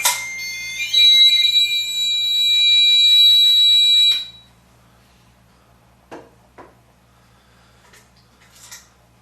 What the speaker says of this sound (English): The temperature gauge goes off.